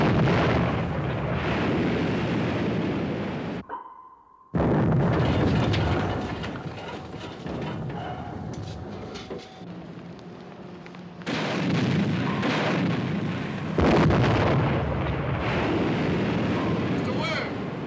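Depth charges exploding in a 1957 submarine war film, heavy booming blasts that fill the scene with deep rumble, a sharp cutoff and quieter stretch midway, then another loud surge; a voice barks orders over it.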